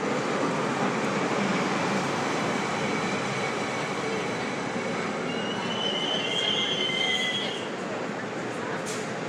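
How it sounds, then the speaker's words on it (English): Onboard a moving train, a loud, steady roar of wheels on rails fills the space, with a high metallic squeal rising briefly midway. "Hearing the train sounds, hearing the ambiance."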